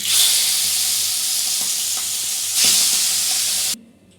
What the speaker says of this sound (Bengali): গরম তেলে আমি মাছগুলো ছেড়ে দিচ্ছি